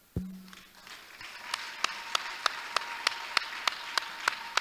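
Rhythmic hand clapping during a church service, sharp evenly spaced claps about three per second after one louder opening clap, fairly faint and with no other sound over it.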